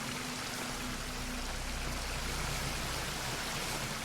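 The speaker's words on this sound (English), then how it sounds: "water flowing," Water flows in the video game Northern Journey, a soft, constant hiss of running water with a faint low hum under it, steady for a few seconds and quiet throughout.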